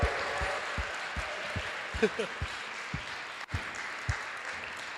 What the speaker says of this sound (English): Let's give ANHC dancers another round of applause.